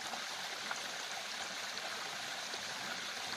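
A small forest waterfall and stream tumble over rocks in the jungle near Kollegal, India, giving a steady, soft rush of running water that carries on alone and unbroken, with no voices.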